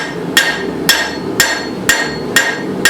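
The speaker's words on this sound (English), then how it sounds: "I'm just doing glancing blows with the rounded face of my hammer" Five sharp, evenly spaced hammer strikes on an anvil, each about half a second apart, ring out loud and close with no talk. They are glancing blows from the rounded hammer face, drawing out thin rebar forged into a snake.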